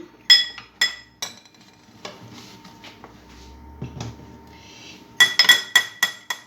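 A spoon clinks against a glass bowl while whisking a dressing of vinegar, salt, pepper and oil, with bursts of sharp taps at the start and end around quieter scraping and stirring.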